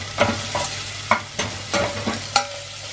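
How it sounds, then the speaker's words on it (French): Onions frying in a new saucepan, stirred in a quick irregular rhythm: several close scraping strokes over a soft continuous sizzle, with no talking. "donc je mets les oignons dedans"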